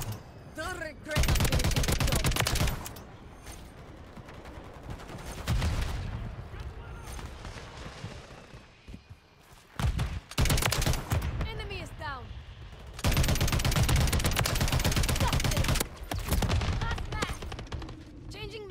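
LMG gunfire in the video game MW3 during a Hardpoint match: several long, loud sustained automatic bursts separated by brief pauses, with game voice callouts and ambient battle noise in between.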